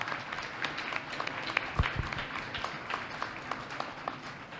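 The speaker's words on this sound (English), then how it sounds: "I'd like them to stand up and get a round of applause as well." An audience at a small business showcase event claps for the business advisors, a moderate, scattered round of applause with a few sharper individual claps, heard from a distance in a large room.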